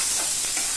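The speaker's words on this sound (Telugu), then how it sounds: "చక్కగా వేగుతున్నాయి." Thinly chopped carrot pieces frying in hot tempering oil give a brief, steady, close sizzle with no voices.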